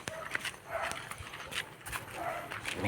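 Dogs on a mountain trail in Baguio City give several sharp, fairly close barks at irregular intervals over an outdoor background.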